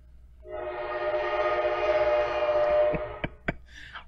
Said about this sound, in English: the train drives by every once in a while